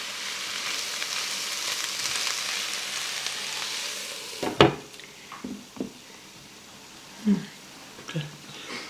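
Cabbage and potatoes with bacon fry in a pan with a steady, loud sizzle for several seconds. The sizzle then gives way to a few sharp utensil clanks and scrapes against the pan.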